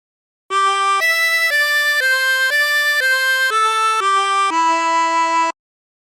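A 24-hole tremolo harmonica plays a slow melody of about nine sustained notes, loud and clear with nothing else heard.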